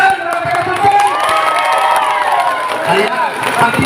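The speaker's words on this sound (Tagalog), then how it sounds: "bibigyan nyo ng mainit na palakpak" A crowd cheers and shouts at a feeding program, with children's voices, shrill whoops and some clapping mixed into loud, busy crowd noise close by.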